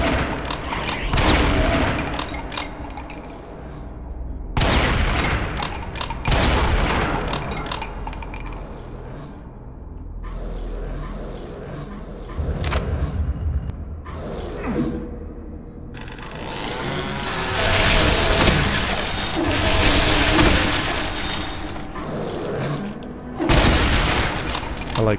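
Gunfire from Brutal Doom 64, loud repeated bursts of shots and booming blasts in irregular clusters, with brief lulls between volleys and heavy rapid fire near the end.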